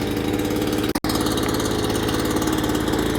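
A backpack leaf blower runs close and steady with a constant droning engine, briefly cutting out for a split second before resuming, no talking.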